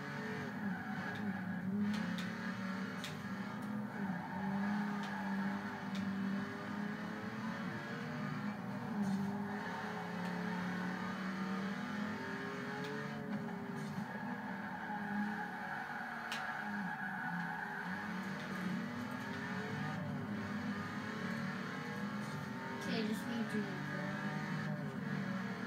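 Race car engines and tire noise from the Forza Horizon 4 video game, a continuous droning whine with shifting pitch, while a person talks over it.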